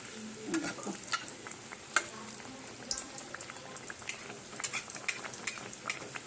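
Veg paneer puffs frying in shallow oil in a pan, giving a steady close sizzle with scattered crackles and pops and occasional soft clinks of a utensil, with no talking.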